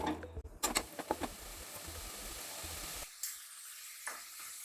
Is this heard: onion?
yes